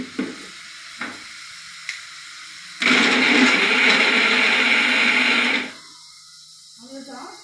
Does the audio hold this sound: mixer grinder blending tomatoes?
yes